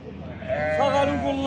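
A lamb at an outdoor sheep market gives a wavering, drawn-out bleat that rises in the middle of the clip. The bleat is close and moderately loud against low market background noise.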